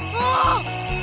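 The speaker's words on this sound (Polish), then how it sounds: "Pilnie potrzebuję budzika." An alarm clock rings with a bright, bell-like tone that carries steadily through a short burst, fairly loud, with a voice-like sound mixed underneath.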